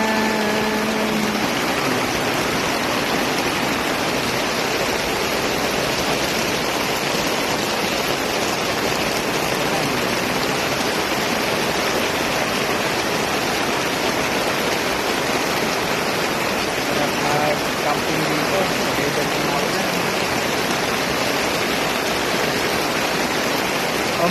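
Steady, dense rain hiss continues unbroken for the whole stretch, loud and even, with no voices.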